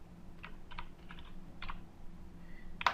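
PHP code typed on a computer keyboard, a few quiet, sparse key clicks in small clusters followed by one louder keystroke at the end, close and otherwise silent.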